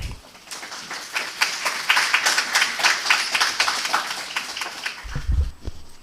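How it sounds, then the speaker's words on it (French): A crowd applauds steadily at a conference opening in Guadeloupe, dense, continuous clapping for several seconds, then it fades as a low rumble or voice begins. "Sous vos applaudissements, s'il vous plaît."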